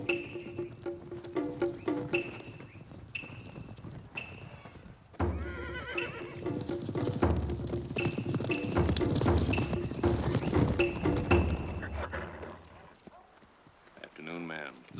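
Horses ride up on a ranch in a Western drama, clip-clopping hooves growing louder and a horse whinnying several times, while people talk over the approach.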